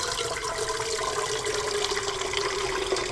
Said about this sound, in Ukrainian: І я зливаю рідину